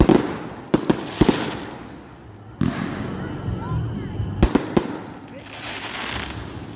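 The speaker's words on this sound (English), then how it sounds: "That's all the fireworks." Fireworks burst in a sequence of sharp pops and bangs at a moderate distance, with a handful of louder reports, a lull in the middle, and faint crowd murmur underneath.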